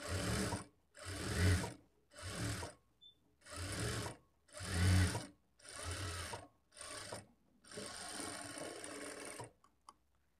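A sewing machine stitches blouse lining beside piping in repeated short bursts, about eight close, even runs separated by brief silences, ending with a longer run and a few faint clicks.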